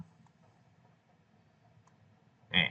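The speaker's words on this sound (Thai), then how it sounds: "เมาส์ผมอาจจะต้องคลิกสองทีครับเมาส์ไม่ค่อยดี" A single sharp click from a worn, unreliable computer mouse comes near the end of a quiet stretch with faint background hum.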